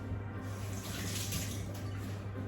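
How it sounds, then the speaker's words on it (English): Water pouring from a tap into a bowl of crushed beans for akara bean cake, a faint steady splashing stream heard alone. "I'll be adding a little water to lighten up the beans a little bit."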